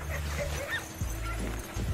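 Sled dogs in extreme cold bark and whine in short, overlapping bursts at moderate distance, with a steady low rumble running underneath.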